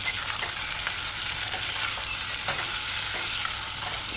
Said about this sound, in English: stir in your stir fry sauce and then add that as well. Stir fry, stir fry.